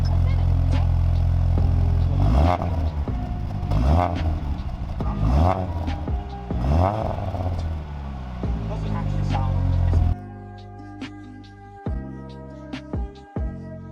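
A Mini R50 car with a newly fitted exhaust revs several times in quick rising bursts, loud and close, before the engine settles and cuts off; people talk over and after it.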